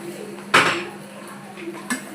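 Boiled pasta being tossed and mixed in a metal frying pan, with one sharp clatter of utensil against the pan and a few lighter scrapes and clinks over a low kitchen hum.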